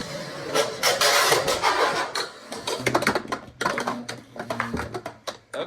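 Beyblade X tops are launched and clash in a stadium, giving a burst of whirring and rattling followed by sharp, irregular clicks and scrapes of spinning metal tops colliding close by.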